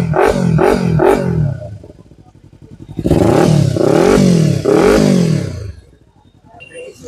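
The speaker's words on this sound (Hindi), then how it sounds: "अब इसका जो है एग्जॉस्ट का साउंड आप सुन लो" A modified Kawasaki Ninja 300 with an aftermarket exhaust revs loudly and close up, with quick blips at first, then a longer sustained series of revs before dropping back to idle.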